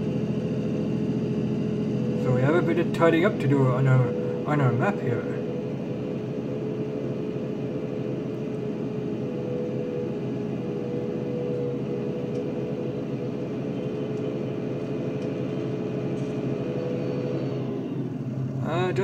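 A tractor engine drones steadily in the Farming Simulator 19 video game, a constant low mechanical hum running the whole time beneath a voice talking.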